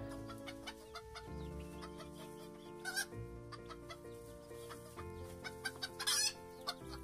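Chickens clucking on a poultry farm, several birds close by in a steady stream of short clucks, with a few sharper calls and no talking.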